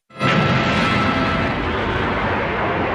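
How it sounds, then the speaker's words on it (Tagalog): Self-destruct explosion in a Dragon Ball anime fight bursts in suddenly and holds as a loud, dense, roaring blast that sustains for several seconds without fading. "lumabas si Napa mula sa pagsabog na wala man lang pinsala"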